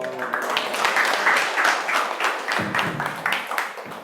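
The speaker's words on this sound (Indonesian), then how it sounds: "berikan tepuk tangan sekali lagi Bapak Ibu untuk Kak Yudi." An audience applauds after a presentation at a teachers' game-based learning school, with steady, moderately loud clapping over about four seconds mixed with a voice speaking.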